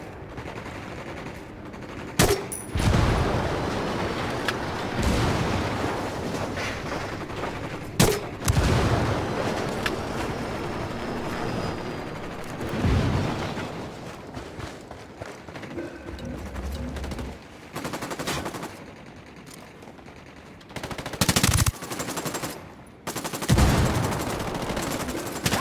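Gunfire from the 2017 PC shooter Tom Clancy's Ghost Recon Wildlands: loud, dense bursts of automatic fire and single shots, packed close together over a steady rumble of combat, with brief lulls between volleys.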